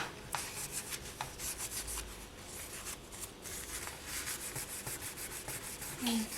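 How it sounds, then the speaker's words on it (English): Close, rhythmic scratchy rubbing of 400-grit polishing paper along the edges of a small polymer clay piece, in quick repeated strokes with brief pauses. "I'm just going to concentrate on sanding along these edges."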